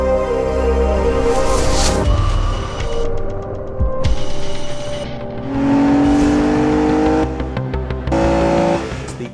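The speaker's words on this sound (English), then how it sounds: "Effortless performance from this 6-litre V12 engine, effortless torque, effortless power." An Aston Martin DB9's 6-litre V12 engine revving hard, loud and close, with rising and falling tones through repeated acceleration and gear changes, a brief tire chirp mid-run.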